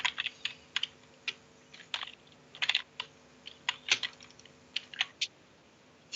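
Typing on a computer keyboard, a run of quick irregular key clicks and taps close to the microphone with short pauses between bursts, no voices.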